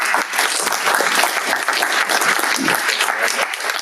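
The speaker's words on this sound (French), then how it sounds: "Merci de l'applaudir, s'il vous plaît." An audience applauds warmly for an honored guest at a talk on ecological initiatives in La Réunion, loud and continuous clapping from start to finish.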